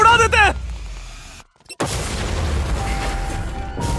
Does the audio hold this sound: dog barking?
no